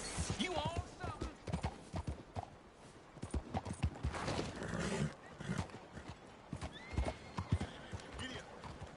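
Horse hooves clip-clop steadily in the Red Dead 2 video game, a whinny rising among the beats, with a voice talking over the trotting throughout.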